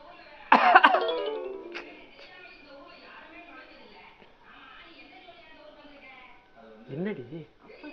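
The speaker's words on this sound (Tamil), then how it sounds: "இருமுனாள் வருது." One sharp, close cough bursts out, followed by quieter throat and mouth sounds and a short vocal murmur near the end.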